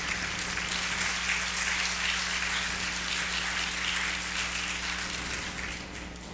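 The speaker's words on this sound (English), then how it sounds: "if we could give her a round of applause for all the work that she does for us as well" Applause from a conference audience at a Saturday afternoon plenary session, a loud, dense and continuous clapping that lasts throughout and fades slightly toward the end.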